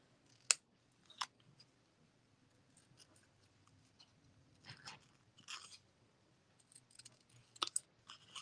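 Scissors snip a small piece of paper, a few crisp, isolated cuts spaced a second or so apart, very faint with near silence between, and a brief rustle of paper midway.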